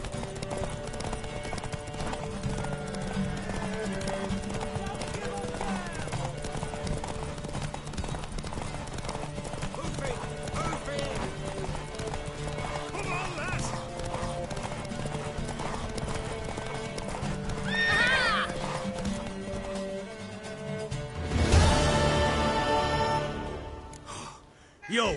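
Horse in the video game Witcher 3, hooves clip-clopping steadily through most of the stretch with a neigh and snorting near the end, mixed with game music and voices talking.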